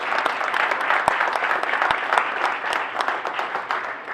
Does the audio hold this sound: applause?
yes